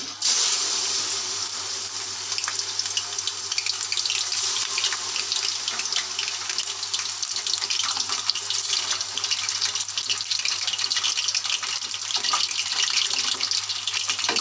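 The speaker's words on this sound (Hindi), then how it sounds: "ऑयल जो हमारा गर्म हो गया है, हमने 1 किलो चिकन लिया था, उसमें चिकन डाले" Chicken, about one kilo, frying in a generous amount of hot oil in a karahi for Peshawari charsi chicken karahi; a steady, loud, even hiss and crackle of sizzling continues throughout with no talk.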